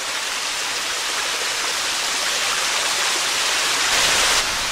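A small waterfall on Cold Run Trail in Worlds End State Park, Pennsylvania, pours with a steady, full rushing roar that stays even throughout, with no voices over it.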